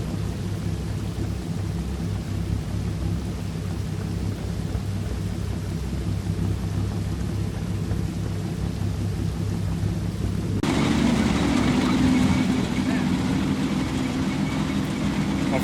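Steady heavy rain with a continuous low thunder rumble fills the Combat Mission Downfall war game; partway through, the wash becomes brighter and louder and stays that way to the end, with no talk.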